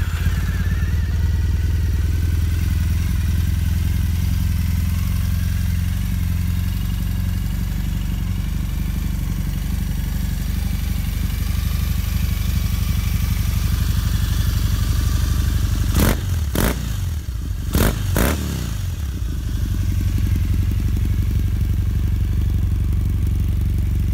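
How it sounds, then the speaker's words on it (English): A Triumph Thruxton motorcycle engine idles steadily and loud close by for the whole stretch, with a low throbbing rumble and a few sharp clicks or clunks near the end. "Great looking, great sounding bike"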